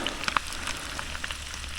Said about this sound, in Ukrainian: отак смажу собі картоплю на сніданок